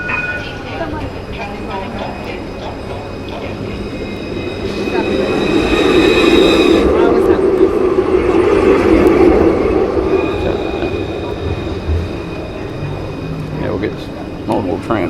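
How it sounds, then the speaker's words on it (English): A tram rolls past along a city street, its rumble swelling to a loud peak midway, then easing off, with a faint whine of wheels and occasional voices nearby. "the tram's coming."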